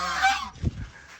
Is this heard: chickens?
yes